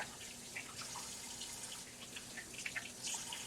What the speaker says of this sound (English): I am just filling up this basin with some cool tap water.